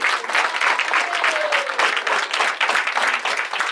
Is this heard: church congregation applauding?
yes